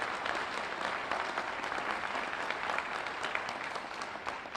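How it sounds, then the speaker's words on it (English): At a Milwaukee streetcar extension event, a crowd gives steady applause for Rocky Marcoux, the city development commissioner: a dense, even wash of clapping at moderate volume, easing slightly toward the end. "Please give him a round of applause."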